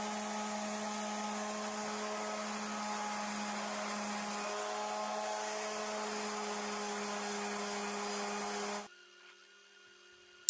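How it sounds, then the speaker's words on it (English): An orbital sander with a 240 grit disc polishes a Coes wrench, a steady high whine with a constant hum running for about nine seconds before it cuts off abruptly into near silence. "Back with the orbital sander with a 240 grit disc on."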